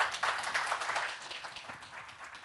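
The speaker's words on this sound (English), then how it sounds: "Most welcome and a round of applause" Audience at an aerospace hydrogen-aviation seminar applauding panelists, a brief, fairly quiet patter of many hands clapping that fades slightly toward the end.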